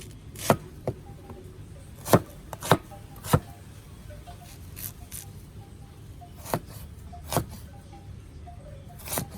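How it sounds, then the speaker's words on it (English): Garlic and onions chopped with a knife for Guyanese farine in a backyard kitchen: sharp, close knife strikes on a board come in irregular bursts and clusters, with quiet pauses between. "So I'm chopping up all the stuff that I need in this."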